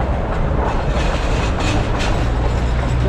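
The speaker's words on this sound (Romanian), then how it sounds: "Ia uitați cum dansează tramvaiul, ia uitați, bang, bang, bang, bang." Tram clattering over damaged tram tracks, a loud, steady rumble of wheels with rhythmic clacks and bangs, close and continuous throughout.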